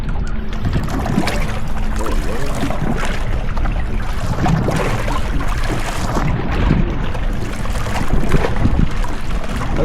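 A small fishing boat slaps and thumps over choppy wake from two passing boats, with water splashing against the hull and wind rushing across the microphone, loud and continuous.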